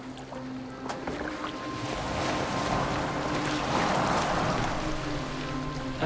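A longship sailing across open water in Assassin's Creed Valhalla, with a steady rush of wind and water washing around the hull, swelling slightly midway and continuing without talk.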